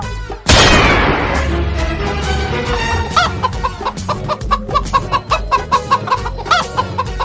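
A loud burst opens the clip, then a chicken clucks repeatedly in quick, rhythmic squawks over a busy background.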